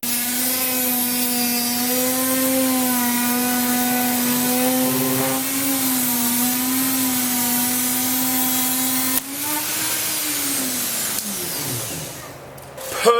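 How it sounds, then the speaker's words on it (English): A heavy-duty cutting disc on a power tool grinds into a hard suitcase shell, a loud sustained whine holding steady pitch, then dipping and faltering near the end. "So let's try it with a heavy duty cutting disc."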